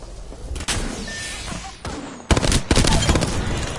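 Loud, close gunfire in Apex Legends: a few heavy single shots, then rapid automatic bursts that build into a dense, booming barrage with slamming impacts.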